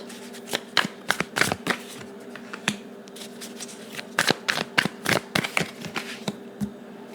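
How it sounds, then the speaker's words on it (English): Tarot cards being shuffled by hand, a quick run of crisp riffles and soft slaps in uneven bursts, close and clear with no voices. "So I'm going to go ahead and just shuffle the cards."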